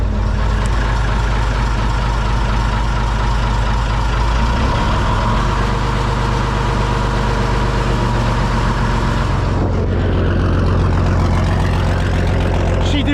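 A Chieftain tank engine runs loud and close with a deep, steady roar, rising as the hand throttle is opened, then dropping in pitch and easing back near the end.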